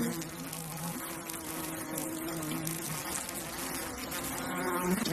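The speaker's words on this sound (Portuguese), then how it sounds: "as abelhas dominam a invasora, mordendo e ferroando a vespa várias vezes" Dense, continuous buzzing from a mass of honeybees swarming over an invading samurai wasp, close and loud, a thick hum of many wings with no gaps.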